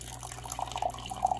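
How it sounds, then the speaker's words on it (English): Purple cabbage water trickles into a small quarter-cup measure, a faint, thin liquid pour with light splashy drips near the microphone over a low background hum. "Okay, so now we're gonna pour this into a quarter in a cup."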